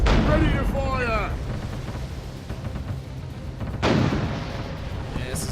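Ship cannons booming aboard a sailing vessel in the VR naval battle game Furious Seas, a few loud heavy blasts with shouted voices over the first shot and rumbling in between.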